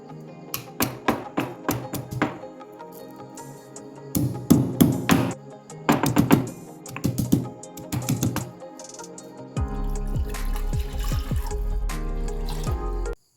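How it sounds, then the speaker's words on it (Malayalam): Ginger, garlic and black pepper crushed together in a mortar, sharp irregular pounding knocks in clustered bursts, followed by a steady rush of water poured into a pot. "ഇഞ്ചി, വെളുത്തുള്ളി, കുരുമുളക് ഇത് 3ഉം കൂടി ഒന്ന് ചതച്ചിട്ട് വരാം"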